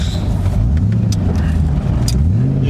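A car engine with a raspy aftermarket exhaust revs steadily nearby, its deep throaty drone rising and falling in pitch with a few sharp crackles over the top, loud and continuous throughout.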